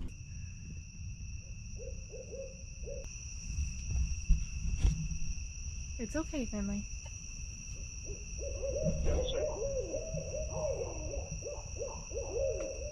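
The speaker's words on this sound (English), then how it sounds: "I think you can hear the owls in the background" Owls hoot in the woods at night around a solo campsite, several soft, repeated calls at mid distance over a faint insect hum, with someone speaking quietly once.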